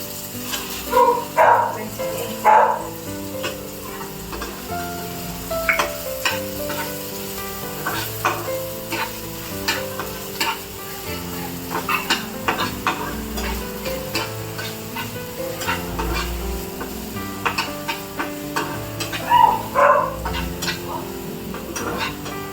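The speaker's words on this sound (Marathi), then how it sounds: "लसूण थोडासा ब्राऊन झाला की आपण त्यात कांदा टाकणार आहोत." Onion frying with browned garlic in a pan, giving a continuous close sizzle broken by spoon scrapes and stirring clatter, with a brief tonal sound near the start and end.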